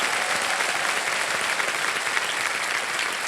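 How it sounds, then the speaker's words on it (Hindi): Sustained applause from a studio audience on a televised quiz show, a steady, dense wash of many hands clapping without pause for the whole stretch, loud and close with no voices over it. "एक बार फिर तालियों के साथ आपका स्वागत करते हैं।"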